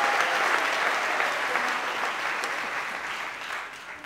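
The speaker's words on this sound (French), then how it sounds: "On peut encore s'applaudir très fort." Applause from the audience at an opposition political convention, a dense, steady wash of many hands clapping close by that fades slightly toward the end, with no speech over it.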